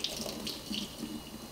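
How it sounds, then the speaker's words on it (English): A makeup sponge is rinsed under a running bathroom tap, the water splashing and spattering steadily and close in a short burst of faucet flow with no voices. "and then I run it under the water"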